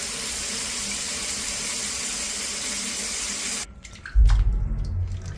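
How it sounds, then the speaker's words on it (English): Tap water runs into a shower to rinse and scrub a grate clogged with black gunk, a steady broad hiss that stops, then returns as a louder, closer splashing gush. "just going to run a little bit of water and then give it a scrub"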